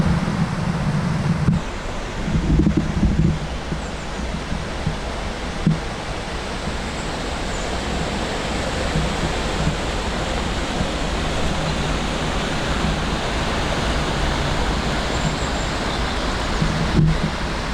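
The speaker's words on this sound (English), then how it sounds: "We've just come down off the footpath to get a better look at the River Esk." The River Esk flows beside a footpath in the Esk Valley as a broad, continuous rushing roar of moving water, close and steady, with a little wind buffeting near the start.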